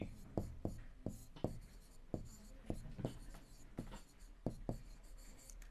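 Chalk or marker writing on a classroom board during a Class 7 maths lesson on simple equations, heard as a series of short, sharp tapping strokes spread across the clip with faint speech in the background.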